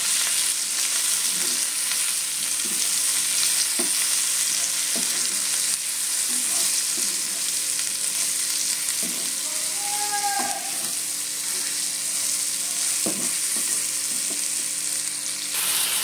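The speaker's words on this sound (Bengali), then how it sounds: "এবার এটাকে আমি ভালো করে নাড়বো।" Turmeric and ground cumin frying in a pan for shrimp jhal, with a continuous sizzle and the occasional knock of a spoon stirring against the pan, close up and with no talking.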